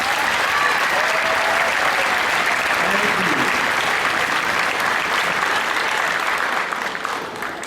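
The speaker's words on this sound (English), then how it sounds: "So a round of applause for Alexis Toes." A school concert audience at a combined middle school ensembles performance gives sustained, loud applause, dense steady clapping with faint voices underneath, tapering slightly at the end.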